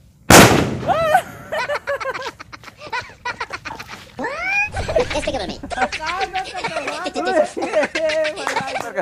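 A sharp firecracker bang opens the clip, followed by excited children's voices chattering and shouting close by, with a few smaller pops mixed in.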